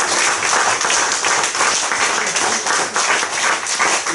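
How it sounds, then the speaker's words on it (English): A room full of people claps vigorously at a football club awards gathering, a thick, continuous burst of applause with slight swells, and no speech over it. "just give yourself a massive round of applause"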